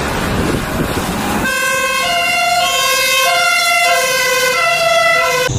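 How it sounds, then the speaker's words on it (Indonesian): A fire truck siren wails loudly, its rising and falling electronic tones sweeping repeatedly over traffic rumble, starting abruptly after a moment of road noise. "di sini ada truk pemadam kebakaran."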